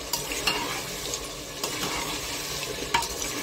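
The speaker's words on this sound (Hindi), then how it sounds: "मसाला मेरा भून रहा है" Spice masala frying and being stirred in a pan, a steady broadband sizzle with occasional scrapes and clinks of the spoon against the metal, continuous and fairly close, with no talking.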